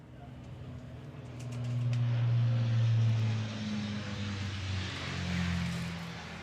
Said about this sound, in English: You can listen to those 4 Merlin engines.